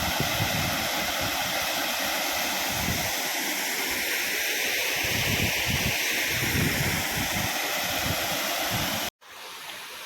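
A waterfall on a river roars as a steady, loud wash of rushing water heard up close, continuing unbroken until a sudden cutoff near the end.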